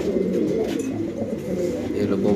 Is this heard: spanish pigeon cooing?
yes